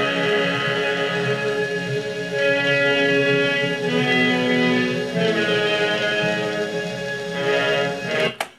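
A restored, EQ'd vinyl record of a Romeo and Juliet prelude plays sustained, gripping orchestral music at steady volume, ending with a sharp click as playback cuts off abruptly.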